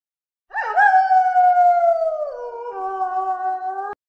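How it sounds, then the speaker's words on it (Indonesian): A long wavering animal howl, loud and close, starts sharply, holds, then slides lower before cutting off, with no other sound around it. "Suara hewan mengaum terdengar."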